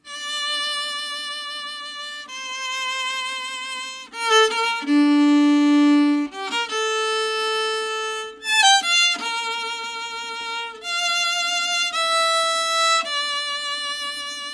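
A solo violin plays a slow melodic passage from the Game of Thrones theme, sustained bowed notes stepping between pitches from D up to D, with clear harmonic tone and brief pauses between phrases.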